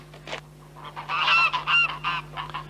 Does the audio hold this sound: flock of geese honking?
yes